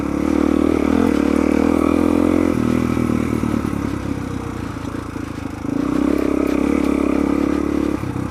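A dual sport motorcycle on a daily commute in Utah gives a loud, steady engine drone with rushing wind. The pitch dips midway, then rises again, and there is no talk.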